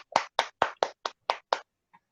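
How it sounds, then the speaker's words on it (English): A handful of crisp, close claps, about seven in quick uneven succession, come from participants in an online convocation meeting, followed by a brief faint tap and then silence. "Round of applause, everybody"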